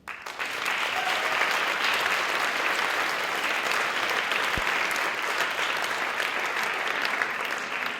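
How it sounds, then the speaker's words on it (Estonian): Steady, sustained applause from a large audience at the Viimsi JazzPop festival in 2013, filling the space evenly for about eight seconds after a short onset, with no voices standing out. "Ma paluksin Arne Saluveerile ühe korraliku aplausi."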